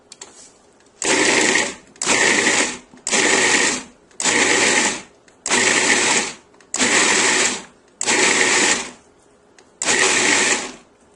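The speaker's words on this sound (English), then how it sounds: "Put the tomatoes into the food processor fitted with the S-blade, and then you're just going to pulse it about 8 to 10 times." Food processor fitted with an S-blade pulsing tomatoes for bruschetta, eight loud whirring bursts of about a second each separated by short silences, close and alone.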